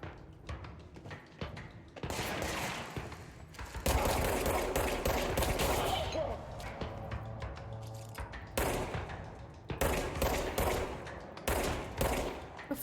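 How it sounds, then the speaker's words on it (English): Rapid video-game gunfire from the game Control, bursts of automatic shots and heavy impacts rattling loudly and continuously, pausing briefly between volleys. "keep shooting at me"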